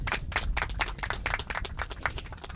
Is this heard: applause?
yes